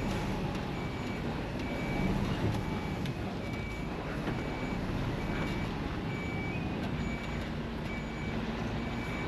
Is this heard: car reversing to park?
yes